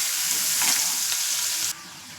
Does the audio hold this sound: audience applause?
no